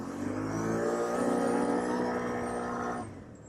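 A stock Can-Am 850 ATV accelerating hard, its engine rising in a loud, steady, climbing whine for about three seconds before the note cuts back and fades.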